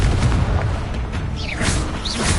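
A Confringo blasting spell explodes in a Harry Potter game, a short booming burst with a whooshing, swirling tail, heard loud and up close with no talking.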